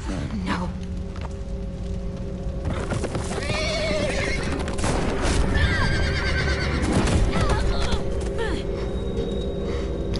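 A horse in The Walking Dead: The Final Season video game neighs loudly several times over clip-clopping hooves, with a steady hum beneath.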